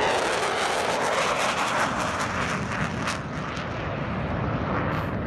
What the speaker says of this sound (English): I think this is the second aircraft coming past